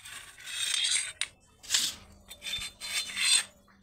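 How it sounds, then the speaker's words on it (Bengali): A boti blade scrapes the skin of pointed gourds (potol), giving several short, close raspy strokes in bursts with brief pauses between them. "এই পটলের এবার গাগুলোকে এইভাবে একটু ঘষে নেব"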